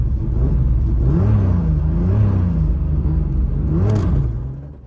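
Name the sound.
BMW E36 car engine revving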